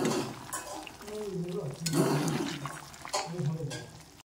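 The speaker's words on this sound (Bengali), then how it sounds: "জলটা মরছে না, এটা ফুটে একদম শুকিয়ে যাবে" Whole-duck meat cooks in a covered wok as the liquid bubbles down. Loud gurgling and sloshing come in uneven bursts, with some stirring scrapes.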